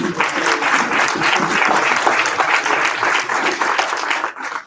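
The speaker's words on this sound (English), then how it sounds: "Let's give her a big round of applause." A luncheon audience applauds someone speaker at a pro-life gathering, a dense, steady wash of many hands clapping close by for nearly five seconds before it thins out at the end.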